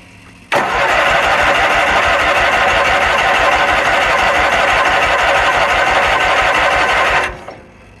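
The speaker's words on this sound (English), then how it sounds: "But let's crank on it, get it filled up with some gas and see if she'll run." A Kohler Magnum 20 engine cranks and catches, then runs at a loud, steady, buzzing drone for about seven seconds before winding down, heard close up with no talking.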